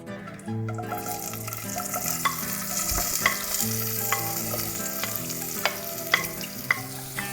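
Shallots and green chillies sizzle steadily in hot oil for a Kerala-style chicken liver fry, close up, with repeated scraping and clinking of a spoon stirring the pan and no talking.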